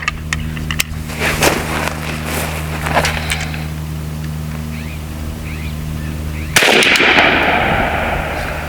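A BINTAC T9 9mm semi-auto air pistol fired outdoors, with several sharp cracks early on and a louder blast near the end followed by a lingering hiss, under steady background hum.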